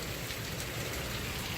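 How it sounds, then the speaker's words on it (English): Steady broadband hiss of a rain downpour easing off after a hailstorm over a flooded parking lot, continuous and fairly faint with no voices. "that little downpour slowed down a bit"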